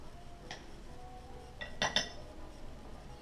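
A metal tablespoon scoops carob powder and taps against a bowl, giving a few faint clinks and scrapes, with a brighter double clink near the end, in a quiet kitchen.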